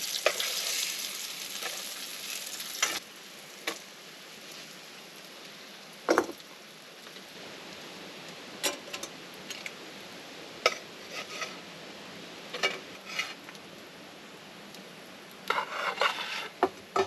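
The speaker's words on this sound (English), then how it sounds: "Let those sit there and fry a little bit." Biscuits fry in a pan over a bushcraft campfire, with a steady soft sizzle throughout and occasional sharp clinks and scrapes of utensils against the pan.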